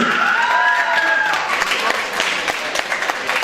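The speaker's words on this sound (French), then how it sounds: "On va donner en applaudissement Madame Jamila Patouche." An audience applauds at an evening event in Charleroi: steady, dense clapping throughout, with a tonal voice or whistle riding over it in the first second and a half.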